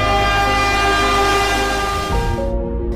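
A train passing a railway crossing sounds a loud, sustained horn over the rumble of its wagons, the tone holding steady before dropping away at the close.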